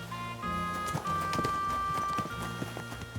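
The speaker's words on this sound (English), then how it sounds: "Right, horse." Horse hooves clip-clop in a quick, steady rhythm in Kingdom Come: Deliverance II, close and distinct, over a faint sustained musical drone with no talking.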